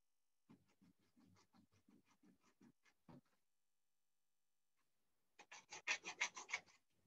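A metal file rasps along the edge of a folding tool kit part to deburr it: a series of quiet rhythmic strokes, a pause, then a louder, faster burst of close scraping.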